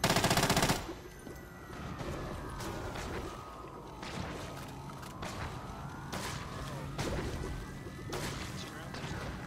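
Video game gunfire in Call of Duty Zombies on the Kowloon map, rapid bursts of shots with echoing reports over a steady background of game noise and effects.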